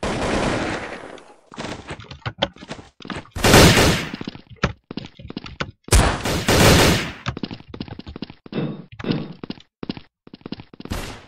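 Gunfire in the video game Blood Strike, loud repeated bursts of automatic shots and single cracks over about eleven seconds, with short gaps between volleys and no talk.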